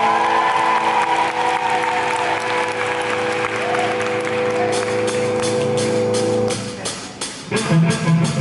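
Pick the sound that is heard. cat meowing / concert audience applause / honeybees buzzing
concert audience applause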